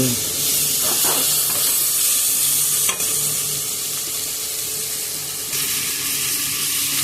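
Ginger paste frying in a hot pan for a brinjal curry, a steady loud sizzle and hiss with occasional stirring scrapes, close up and continuous.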